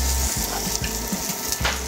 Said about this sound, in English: Now you can really hear that sizzle start to saute.